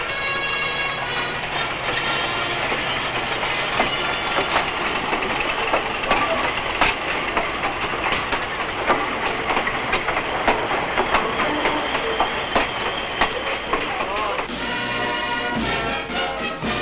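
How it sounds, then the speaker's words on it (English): A special train for a royal journey to Kuala Lumpur in 1965 rolls steadily along the rails with continuous rumbling and rhythmic clickety-clack, loud and close throughout. "the royal couple boarded a special train for their journey to Kuala Lumpur"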